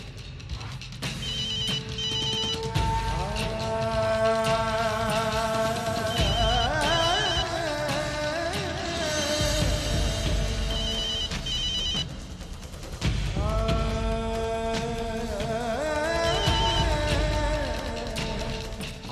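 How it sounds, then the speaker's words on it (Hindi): A telephone ringtone plays on and on with no answer, a loud repeating melodic ring that pauses briefly and starts again, in a Hindi TV serial. "वर्षा का फोन ऑफ है और सतीश फोन नहीं उठा रहा।"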